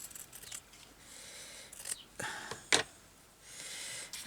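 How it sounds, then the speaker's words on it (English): Scissors cut through fabric for a fabric-and-lace journal page. Several short crisp snips and rustles rise over a steady background hiss at close range. "now I'm going to cut this off here"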